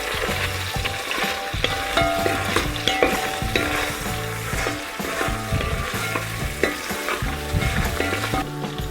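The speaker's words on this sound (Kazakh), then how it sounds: "етіміз әдемі болып қуырылып жатыр" Pieces of meat for borscht sizzle steadily in a hot pan while a utensil stirs them in repeated scraping strokes, loud and close, with no voices.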